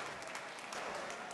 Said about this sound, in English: it's a partisan crowd, but even they would cheer this